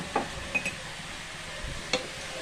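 Spoon stirring coriander powder into a chicken pepper masala curry in a pan: soft scraping with a few light clinks of metal on the pan, faint and intermittent over a low background hiss.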